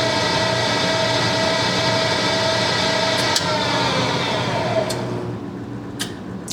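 A Sun CWB1762 tire balancer spins a tire with a steady, loud whirring hum that holds nearly level, then winds down near the end as a few sharp clicks sound.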